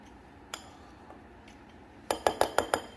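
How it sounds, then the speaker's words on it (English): Flour, salt, baking powder and baking soda are mixed in a bowl; scattered soft taps give way to a rapid burst of five sharp, close clinks of a utensil against the bowl, with no voices. "Now I'm just going to mix and combine well."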